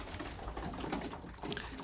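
Soft pigeon cooing in a noisy, busy space, low murmuring calls under steady background hiss.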